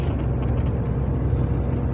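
A road vehicle labours along a hilly up-and-down road among heavy earth-moving traffic, its engine a steady, close, low rumble that holds level throughout with no voices over it.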